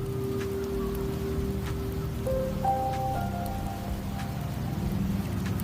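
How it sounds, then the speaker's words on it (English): Steady rainfall in a video game, pattering continuously at moderate volume, with soft musical tones drifting over the wash. "The rains in Septimont never seem eager to leave this season."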